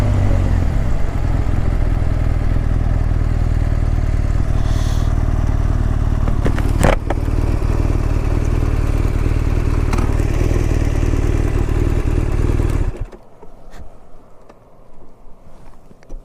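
A motorcycle engine runs steadily and loudly up close during a ride through Quebec between Saguenay and La Tuque, with a brief clunk as the bike is shifted into gear, then the engine noise drops sharply toward the end.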